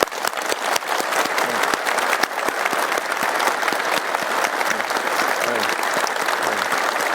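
Steady, dense applause from an audience fills the whole stretch, with crisp individual claps standing out over a continuous wash of hands and a few faint voices underneath.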